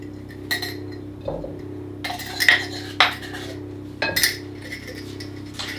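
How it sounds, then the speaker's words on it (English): Dairy-free butter and caster sugar beaten with a wooden spoon in a bowl, giving scattered clinks and knocks in uneven bursts, close and moderately loud. "we're just going to beat those together lightly with a wooden spoon"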